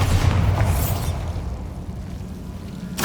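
A Bombarda blasting spell goes off in Hogwarts Legacy, a loud booming burst that opens the clip and rumbles away, followed by a quieter lull and a second sharp blast right at the end.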